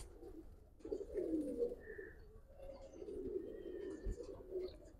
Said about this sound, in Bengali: আজকে যে কবুতরগুলো দেখাবো